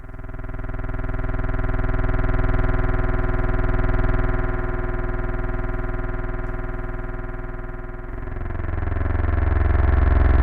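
A thick, distorted drone from a SwarmaDie 2 Swarmatron synth plugin sustains steadily, low and rich with buzzing harmonics, shifting to a deeper, rougher tone near the end as it is pitched down.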